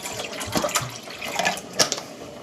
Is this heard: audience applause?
no